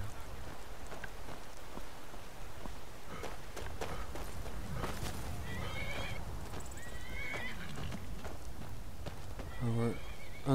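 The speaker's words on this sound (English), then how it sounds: "Our unnamed horse" A horse in the Skyrim video game whinnies and clip-clops at a steady hooved pace, with a person talking over it and a sharper neigh near the end.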